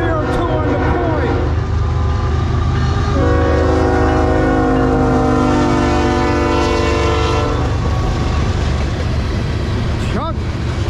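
CSX freight train M403 rolling past loud and close with locomotive 3002 leading, its horn sounding sustained blasts over the heavy rumble and clatter of the cars.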